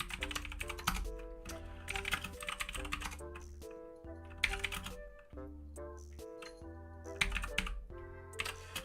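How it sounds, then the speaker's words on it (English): A computer keyboard typed on during a JavaScript and Python programming session, with rapid, irregular key clatter running throughout and a steady tonal background beneath it. "I need my keyboard."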